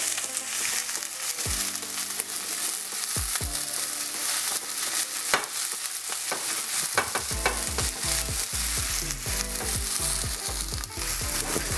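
Food sautéing in a pot, a continuous loud sizzle with repeated knocks and scrapes of a utensil stirring, the clatter growing busier and more rapid in the second half.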